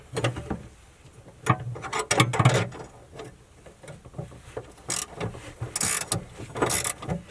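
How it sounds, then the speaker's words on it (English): A ratchet wrench clicks in quick bursts while loosening the battery tray nuts of a turbo Camaro, mixed with metallic clanks and handling knocks, close and without talk. "I'm loosening up the battery tray nuts so we can get it out"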